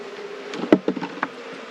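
A honey bee swarm buzzes close by, a continuous insect drone with a few louder passes as individual bees fly near.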